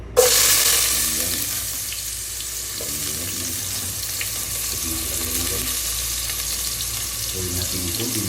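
Garlic, onion and ginger hit hot oil in a pan for adobo with gizzard, giving a loud initial sizzle that settles into a steady frying hiss with occasional stirring scrapes, close and without talk.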